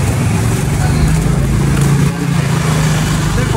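A motorcycle engine idles steadily with a deep, continuous rumble throughout, close by and fairly loud, with a slight dip near the middle.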